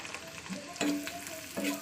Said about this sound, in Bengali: পেঁয়াজটা ভাজা হয়ে যায় গেলা দিচ্ছি